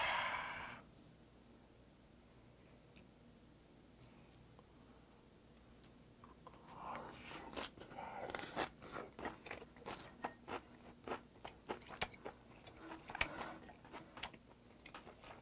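Crunchy Yeosu Dolsan mustard leaf kimchi is bitten and chewed close to the microphone: after several quiet seconds come faint, irregular crisp crunches and clicks that continue to the end.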